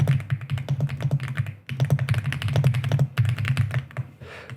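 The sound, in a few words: typing on a hot-swappable mechanical computer keyboard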